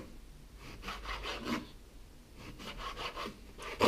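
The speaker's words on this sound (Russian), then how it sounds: "Самое главное резать поперек волокон, чтобы мясо не было жестким." Knife slicing beef into half-centimetre strips across the grain on a board, producing repeated rasping, rubbing strokes in an uneven rhythm, close and moderately loud.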